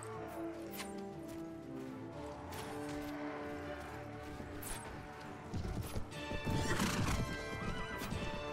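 Horses in the video game Mount & Blade Warband Prophesy of Pendor, neighing and whinnying with galloping hoofbeats amid battle clatter, growing louder near the end.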